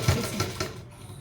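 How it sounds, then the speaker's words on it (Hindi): Sewing machine running briefly and steadily, stitching over the folded elastic casing of an Afghani salwar, close and alone with no talk. "लास्टिक को आप अंदर की तरफ डाल दीजिए इस तरीके से और आप एक सिलाई इसके ऊपर से लगा दीजिए"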